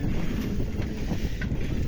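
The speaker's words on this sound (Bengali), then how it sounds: "বাতাস, এত বাতাস যে আমরা মোটরসাইকেলটা চালাতে পারছি না" Strong wind buffets the microphone with a constant low roar and rumble, gusting without pause, in a hot desert-like area, strong enough to hinder riding a motorcycle.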